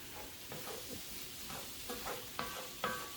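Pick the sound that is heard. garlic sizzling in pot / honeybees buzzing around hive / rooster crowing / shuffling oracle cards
garlic sizzling in pot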